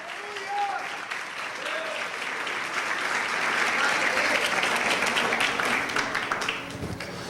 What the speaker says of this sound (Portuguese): Se vai aplaudir, aplaude para Ele.